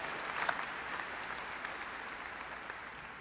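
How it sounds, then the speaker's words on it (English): Soft, distant applause from a large convocation audience, a faint steady wash of clapping with no voices over it. "another round of applause, everyone"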